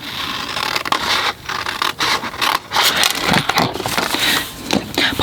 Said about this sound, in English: And I'm just going to cut up that last score line.